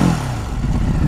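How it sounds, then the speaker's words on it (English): Engine of a stock 2016 Ducati Hypermotard heard close up, a steady mechanical idle with a low throbbing pulse and faint clatter, fairly loud and continuous. "That's the engine."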